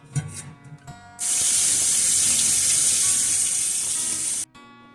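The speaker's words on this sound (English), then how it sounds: "Before you use the eggs, you do want to rinse the pickling lime solution off." Running tap water hisses steadily over eggs being rinsed of pickling lime, a loud broad rush that starts abruptly and cuts off, with small handling clinks before and after.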